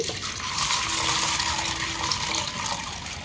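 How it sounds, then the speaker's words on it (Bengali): Water is poured into a bowl holding 500 grams of chana dal, making a steady, close splashing rush that lasts the whole few seconds with no talking. "এর মধ্যে পরিমাণ মতো জল দিয়ে দিচ্ছি"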